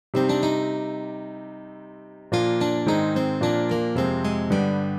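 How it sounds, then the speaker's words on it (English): A full chord rings out and fades, then a melody line moves over sustained supporting harmony in a clear, bright instrumental tone. "with one instrument playing a prominent melodic line while others create a supporting harmony behind it"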